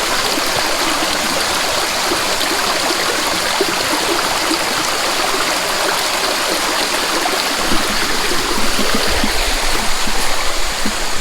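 A mountain stream along the Laurel Fork Falls trail in South Carolina rushes in a steady loud wash while a water bottle is dunked in to refill, with no distinct splash standing out.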